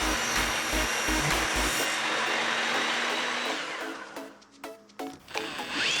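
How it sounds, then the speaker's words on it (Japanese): A HiKOKI circular saw rips through a full-size sheet of softwood plywood, a loud, steady high whine for about four seconds before the blade winds down amid a few clattering knocks. "サブロクはテーブル層で切れないので丸ノコで切ります。"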